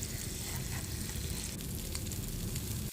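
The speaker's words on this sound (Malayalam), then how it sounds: "ചെമ്മീൻ ഇങ്ങനെ ഫ്രൈ ആയിക്കൊണ്ടിരിക്കുകയാണ്" Prawns fry in a pan with a dense, steady sizzle and crackle, close and continuous, with no voices.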